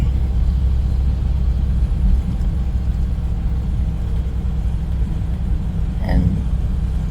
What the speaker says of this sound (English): it doesn't help being in a moving truck